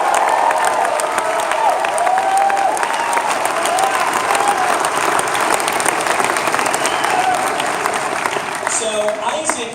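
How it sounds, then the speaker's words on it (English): An audience at a book event applauds an art director with sustained, dense clapping and some cheering, while voices carry faintly through it. "So Isaac, let's clap for Isaac."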